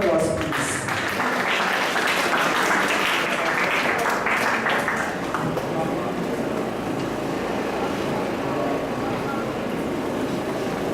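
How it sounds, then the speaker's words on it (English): Audience applause at a Japanese-Philippine conference on urban redevelopment of Tacloban City, a broad clapping wash that peaks early and fades into a low hum. "A round of applause, please."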